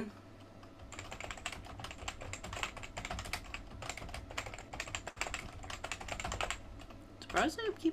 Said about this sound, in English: cannot see what the heck I'm typing